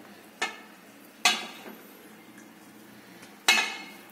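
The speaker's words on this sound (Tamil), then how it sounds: "இப்ப நம்ம ஆற வச்ச சாப்பாட்டை வந்து இதுக்குள்ள ஆட் பண்ணிக்கலாம்." Cooled cooked rice for mango rice is added into a cooking vessel, marked by three sharp metallic clanks of a utensil against the pot, spaced irregularly over quiet background, close and without talking.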